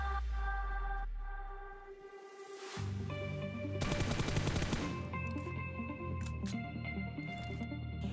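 M416 rifle bursts fire in a battle royale video game, rapid automatic shots over a busy game soundtrack, with a dense burst in the middle.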